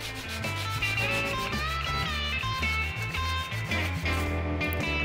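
An end grain wooden cutting board is sanded with 120 grit paper, giving continuous rubbing and scratching strokes over steady background music.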